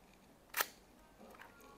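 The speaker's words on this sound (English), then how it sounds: "very silent shutter" Shutter of a vintage German rangefinder camera with a very quiet, knob-wind body, firing once as a single short soft click followed by faint handling noise in a quiet room.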